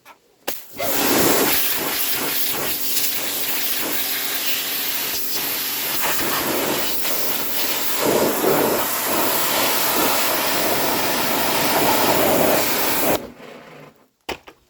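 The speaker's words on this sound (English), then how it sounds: "You watch how a pressure washer take that off." A pressure washer blasts ground-in grease off a stationary engine, making a loud, steady hissing spray that runs unbroken for about twelve seconds, with some sputtering shifts as the jet moves across the metal.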